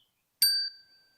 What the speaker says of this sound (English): Tap the top of the bell just like that.